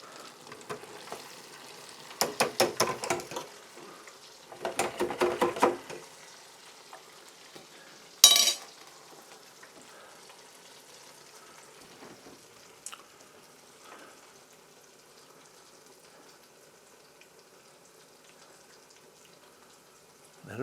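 Hot water cornbread made with Hickory King corn fries in hot oil, three short bursts of bubbling sizzle followed by a sharp crackle, then a quiet, faint background of low sizzling with no talk.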